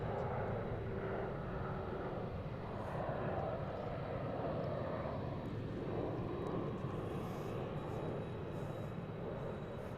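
A new Boeing 767 airliner without winglets passes at DFW International Airport, giving a steady, broad jet roar that holds at a fairly even level throughout.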